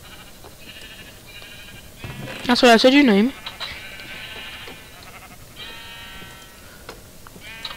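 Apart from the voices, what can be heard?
sheep bleating in the video game Minecraft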